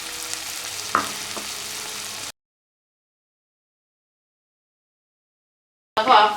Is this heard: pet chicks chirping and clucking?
no